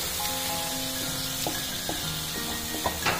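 Cumin and coriander powder sauté in a pan with a little water under a steady sizzle, with a few light stirs and soft clinks of a spoon on the pan.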